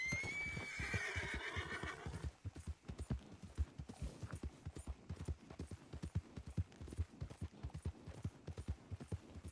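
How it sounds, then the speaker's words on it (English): A horse in Red Dead Redemption 2 whinnies loudly for about two seconds, then steady clip-clopping hooves continue in a quick rhythm close by. "Got me a new horse."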